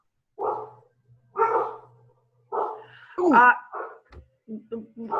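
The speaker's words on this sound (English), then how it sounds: "My dogs are barking." Several dogs bark indoors near the door, a series of loud separate barks with short pauses, some sharper yips toward the end, and a person's voice mixed in.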